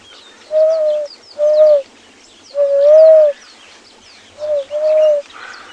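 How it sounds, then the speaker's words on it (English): A Namaqua dove calls at sunset on safari, giving a series of five soft, low hooting coos in a slow, uneven rhythm, clear and fairly close, with faint chirps from other birds behind. "we have an Namakwa dove calling in the background"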